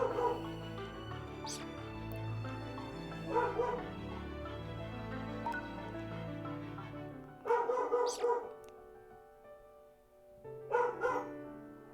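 A dog barks in short, loud bursts at intervals, close by, over a steady low background hum with no talking.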